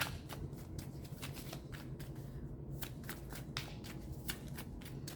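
Tarot cards being shuffled by hand in a steady run of crisp riffling flicks and soft slaps, close and continuous for about five seconds over a low room hum, with no talking.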